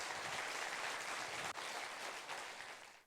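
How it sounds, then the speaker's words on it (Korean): A lecture audience claps warmly to welcome a speaker at a Buddhist talk event, a sustained wash of applause that fades slightly toward the end. "뜨거운 박수 부탁드리겠습니다."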